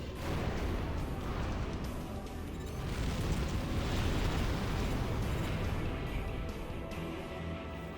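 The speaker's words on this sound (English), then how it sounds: "keep shooting missiles at me" Missile explosions in the video game Armored Core For Answer on PS3 form a continuous, dense roar of overlapping blasts and rumbling booms, steady and fairly loud throughout with no clear gaps.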